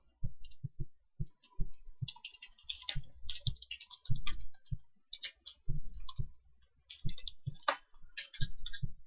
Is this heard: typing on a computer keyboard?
yes